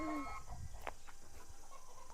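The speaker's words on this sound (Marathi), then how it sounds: "हे कोंबडे आहेत सगळे" Chickens and roosters clucking faintly on a village farm, a few short scattered calls with quiet farmyard background noise.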